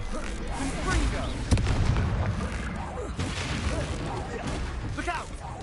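A Confringo fire spell in Hogwarts Legacy bursts with a booming blast amid a noisy battle, dense rumbling effects and shouted voices around it.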